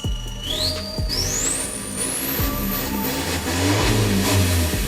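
Isuzu D-Max 1.9 Ddi four-door pickup with aftermarket parts revs repeatedly, its diesel engine rising and falling in loud, close bursts with steady rumbling between, while a whistling whine climbs steadily higher.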